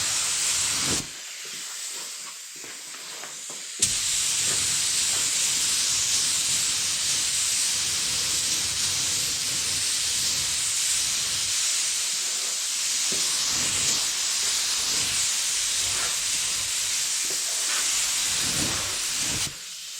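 A paint spray gun lays candy paint over a marbleized, brushstroke-effect base coat, producing a loud, steady hiss that runs almost without a break for nearly twenty seconds after a short quiet start.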